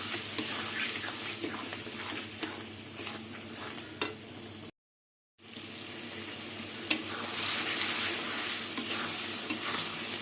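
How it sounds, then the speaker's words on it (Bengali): Pointed gourd and potato sauté in a pan over a low gas flame with a fried paste of shrimp, onion, garlic, ginger and green chilli, giving a soft, steady sizzle broken by occasional scraping stirs, with no voices. "এবার এটা দিয়ে কিছুক্ষণ আবার কষিয়ে নেবো"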